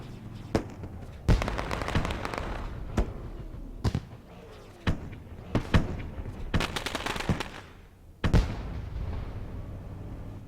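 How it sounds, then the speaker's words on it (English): Fireworks explode over the backstretch of Five Flags Speedway on a super late model race night, a run of loud booming bursts and crackles at irregular intervals with sharp hits standing out against a rumbling background. "As the fireworks still continue to roar in the backstretch"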